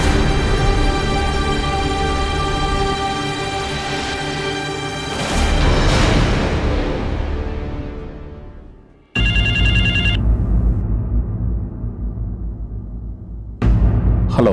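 A telephone rings loudly and repeatedly in a home, its electronic trill sustained for several seconds, fading out, then returning in sharp bursts after a pause.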